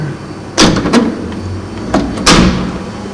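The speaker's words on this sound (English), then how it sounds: "closing the door" A classroom door in an old laboratory school is pulled shut, producing a few sharp wooden clunks and a latch click spread over a few seconds, close and fairly loud with no talking.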